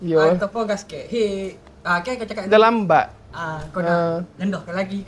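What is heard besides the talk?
No distinct noise like a dog, phone or traffic.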